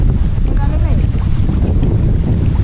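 Strong wind buffets the microphone with a constant low roar, gusts sweeping across the top of a boat, loud and unbroken throughout.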